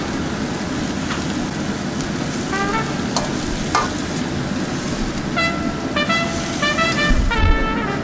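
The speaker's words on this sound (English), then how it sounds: "let's add in the spinach greens" Spinach greens cook in a pan, a steady frying hiss with occasional clicks and light clatter of utensils, and faint tonal beeps toward the end, without speech.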